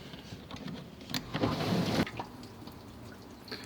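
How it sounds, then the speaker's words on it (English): A dishwasher runs a short cycle with a capful of suds remover added, giving a close watery swishing and dripping that swells to a louder rush midway, then settles back to a low hum. "Then you close it and you let it run for a sec."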